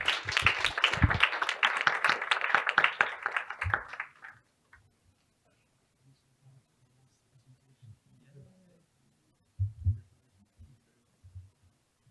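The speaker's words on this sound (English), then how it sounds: "I ask for a round of applause" An audience applauds at the close of a panel session on multilateralism, a dense burst of clapping for about four seconds that quickly dies away into near silence with a few faint thumps.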